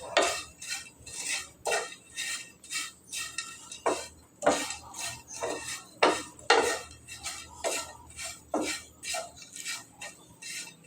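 Dried kechki fish is stirred in a pan with mustard oil, a utensil scraping and clinking against the metal in quick repeated strokes, fairly close, with no talking.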